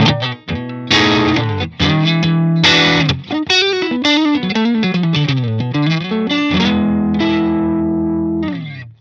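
An electric guitar played with its volume knob rolled back for a cleaner tone: sustained melodic notes with slides and bends, swelling and trailing off through effects, alone and up close.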